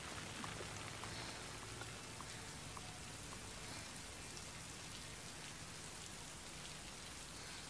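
Steady rainfall pattering on a surface, soft and continuous with scattered individual drop ticks, no voices.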